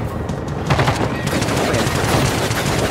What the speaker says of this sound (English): I'm just using some machine gun going